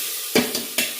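Green chilli paste and spices sautéing in a pan, a soft continuous sizzle broken by three quick stirring scrapes, close and alone.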